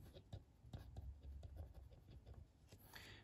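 Chalk or marker writing on a classroom board during a biology lesson, with quick scratchy strokes in short bursts, close and faint, and soft speech in the background.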